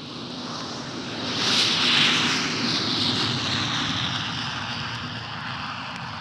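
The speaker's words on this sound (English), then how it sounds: "That monster was the Boeing 707, the largest plane in the world" A Boeing 707 jetliner in BOAC service roars past overhead, its loud jet rush swelling to a peak and then slowly fading, with no voices.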